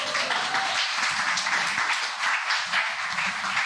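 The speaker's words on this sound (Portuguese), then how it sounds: "dá uma salva de palmas para o Vitinho" A crowd claps in sustained applause for Vitinho, a newly graduated geography teacher, at a 2023 gathering, dense steady clapping throughout with faint voices underneath.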